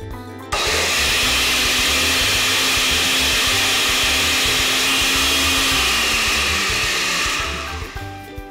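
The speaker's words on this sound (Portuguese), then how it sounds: "Agora eu vou liquidificar todos esses" A kitchen blender whirs loudly and steadily up close as it mixes chocolate cake batter of cocoa powder and corn oil, switching on abruptly and winding down near the end.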